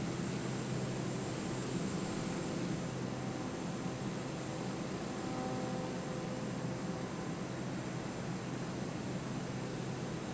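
Inside an airplane flying over New York City, a steady broadband engine and cabin roar drones evenly throughout, constant and fairly quiet with no voices.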